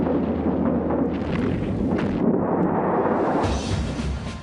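Anti-aircraft flak guns firing over Normandy during the Allied invasion, a dense continuous roar of bursts and distant explosions, loud and sustained throughout.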